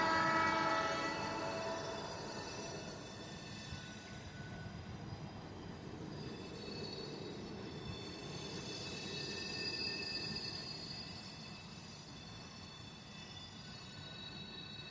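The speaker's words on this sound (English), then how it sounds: "The container train's still moving." A long container train rumbles steadily past with clanking wagons and a blaring horn near the start, the noise swelling and fading over fifteen seconds.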